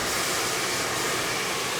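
A handheld blow dryer runs steadily while drying hair during a blowout styling session, giving a continuous, even airy whoosh at moderate level with no voices.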